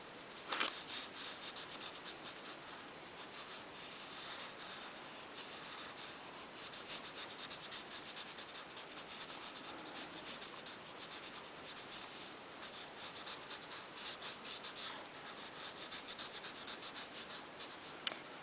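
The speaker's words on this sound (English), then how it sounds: "So now we'll just color in our tulip. So let's color this one in purple." Coloring in a drawn tulip in purple on card: a soft, continuous scratching of the colouring tool rubbing back and forth on paper, close and faint.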